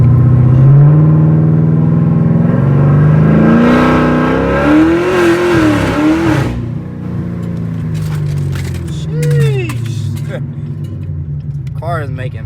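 A car driving and accelerating on a main street while being checked for a slight vibration, its engine rising and falling in pitch through gear changes, loud and close from inside the car, with people talking over it.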